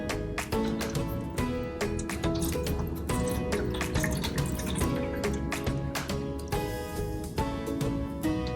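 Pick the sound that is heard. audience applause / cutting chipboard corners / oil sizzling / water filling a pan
water filling a pan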